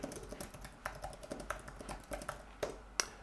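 Fingers type on an Apple Magic Keyboard, producing sparse, crisp key clicks at an uneven pace, close up and quiet, with a sharper tap near the end and no speech.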